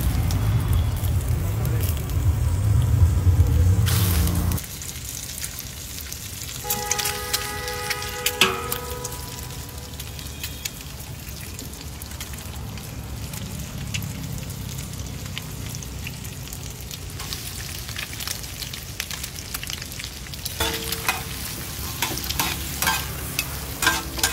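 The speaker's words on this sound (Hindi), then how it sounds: "चार ही फ्राई करूँगा" Boiled eggs fry in a pan for a spicy egg masala, with steady sizzling and crackling, a loud rough burst at the start, then quieter frying broken by sharp scrapes and clinks of stirring.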